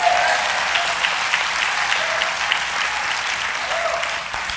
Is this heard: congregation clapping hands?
yes